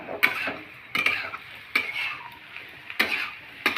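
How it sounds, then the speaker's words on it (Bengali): Potatoes and onion fry in a pan while being stirred, each spoon stroke scraping sharply against the metal at a steady rhythm over a soft background sizzle. "পেঁয়াজটা দেওয়ার পর আরেকবার ভালোভাবে নেড়ে নেওয়া হচ্ছে"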